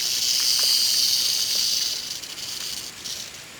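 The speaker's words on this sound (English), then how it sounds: "It's just like a sound of a big like rubber hose dragging on the ground." A large timber rattlesnake crawls through dry leaves in Georgia's Appalachian Mountains, giving a steady, close, dragging hiss and rustle that eases off slightly toward the end, with no voices.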